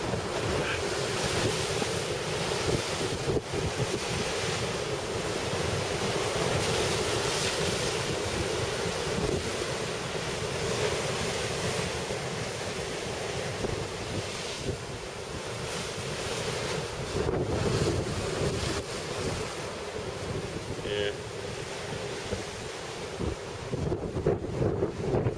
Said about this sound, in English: Have you seen the Atlantic Ocean like this?